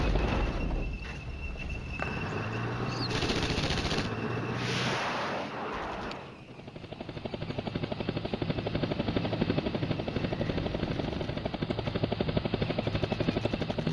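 Helicopters in a Cold War NATO strategy game, Flashpoint Campaigns: Red Storm, give a steady, loud rotor drone that runs through the whole stretch with a brief dip midway, no talking over it.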